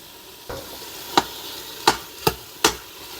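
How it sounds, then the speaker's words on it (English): Garlic and beef sizzle in an Instant Pot on sauté under a steady low hiss, while a utensil scrapes and knocks against the pot in five sharp, close strokes spaced about half a second to a second apart. "And fry a little bit with the meat."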